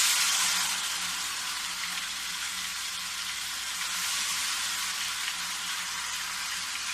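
Ghevar batter fries in hot ghee over a medium flame with a steady, bright, hissing sizzle that continues unbroken, with no talking.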